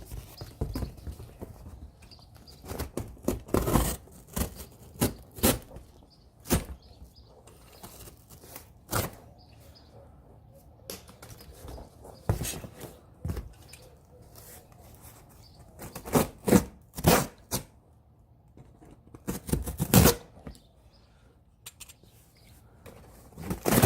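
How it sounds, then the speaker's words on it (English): A box knife cuts and trims the sides of a cardboard heater-box template in a custom garage, giving irregular bursts of sharp scraping and slicing strokes with quiet pauses between them and no talking. "when you're cutting cardboard or anything with a knife, a box knife,"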